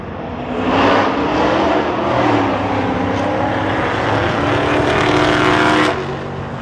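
Hellcat cars race head to head in a racing video game, their engines roaring loud and steady with revving and a passing drone, holding strong from start to finish.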